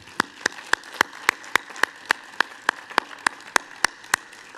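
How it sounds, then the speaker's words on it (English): Sparse, evenly spaced single claps ring out at a commencement ceremony for a medical school class, about a dozen sharp hand claps in a steady rhythm over a quiet room, too few for full applause. "Can we give them a round of applause?"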